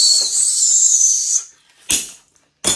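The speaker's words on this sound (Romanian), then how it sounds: "Ăsta e breloc, fluier." A toy whistle keychain is blown in a long, shrill, breathy tone lasting over a second, followed by two short sharp bursts of noise, loud and close with no talking.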